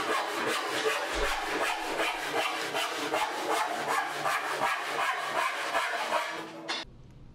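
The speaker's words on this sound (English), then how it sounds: "Mark that line with a straight edge, and then just saw off the waist." A hand saw cutting the waste off a wooden board for a peach crate, with a steady rhythmic back-and-forth rasp of close strokes that stops abruptly near the end.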